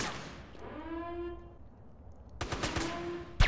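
Gunfire in GTA San Andreas, a faint rattle of shots that bursts louder near the end, ending in one sharp crack, under a tonal game sound with no talk.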